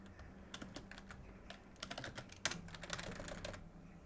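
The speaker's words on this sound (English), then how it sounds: "Okay, he's typing something." Someone types on a computer keyboard in a steady run of quick clicks and clacks, close and fairly quiet, with a low hum underneath.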